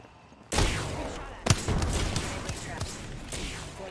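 A frag grenade going off in the game Apex Legends, a sudden loud blast followed by a second sharp boom and scattered gunfire-like cracks that ring out over continuing game noise.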